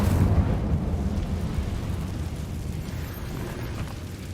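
The Incendio fire spell is cast in the Hogwarts Legacy video game: a loud, deep, rumbling fiery roar that starts strong and slowly fades over a few seconds, with no voices.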